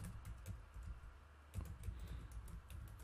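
Soft, steady typing on a computer keyboard, a quiet run of irregular key clicks with no talking.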